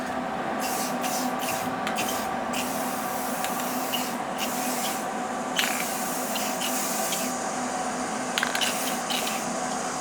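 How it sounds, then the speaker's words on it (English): Steady Rust-Oleum spray paint hissing from an aerosol can over metal sculpture welds, with short louder bursts as the nozzle is pressed and released, close to the microphone. "Just gonna spray over the welds a little bit."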